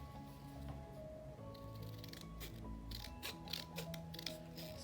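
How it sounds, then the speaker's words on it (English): Tim Holtz scissors cut through old chipboard in a series of crisp snips and crunchy clicks, fairly close and steady over a low background hum, with no talking. "scissors to really cut through this."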